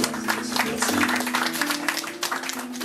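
Steady crowd applause greets a guest seated at the back of a poetry evening, a continuous rattle of hands lasting nearly three seconds, with a low tonal murmur underneath.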